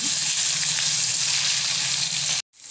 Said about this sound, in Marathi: पनीर थोडं फ्राय करून घेऊ